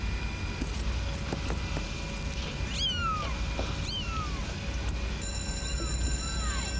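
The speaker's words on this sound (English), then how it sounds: "They're my kitties." Several kittens give high, thin meows, repeated in short cries over a steady background hum, with a voice briefly in the scene.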